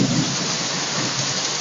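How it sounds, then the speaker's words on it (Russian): A heavy downpour with large hail in Magnitogorsk during a Ural storm, a dense, loud, unbroken roar of rain and hail hitting surfaces, close and steady for the whole stretch. "Сильный дождь, сильный ливень такой, и очень такой крупный град."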